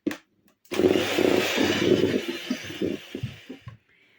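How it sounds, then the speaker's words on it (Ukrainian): An electric mixer on low speed blends sunflower oil with fresh homemade milk, its motor whirring in close after a short quiet start, with a wobbling, uneven tone before cutting off near the end. "І на маленьких обертах міксера просто перемішую до однорідності."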